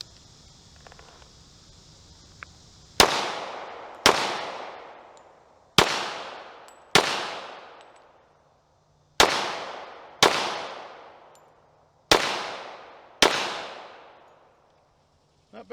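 Eight sharp gunshots from a Tisas Raider pistol loaded with several types of ammunition ring out in pairs and singles, each crack followed by a long echoing decay outdoors, loud and close.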